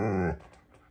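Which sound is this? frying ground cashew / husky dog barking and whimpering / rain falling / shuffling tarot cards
husky dog barking and whimpering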